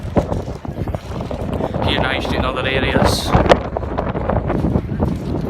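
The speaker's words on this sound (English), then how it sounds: "apologies for the wind, it's quite windy here in Edinburgh city centre" Gusty wind buffets the microphone on a city-centre street in Edinburgh, a steady low rumble with brief louder gusts running under someone talking throughout.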